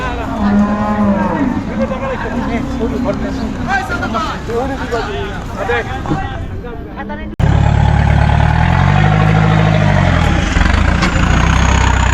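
Cattle bought at the Hazratpur cattle market moo repeatedly in long, drawn-out calls, close and loud, while people talk nearby throughout.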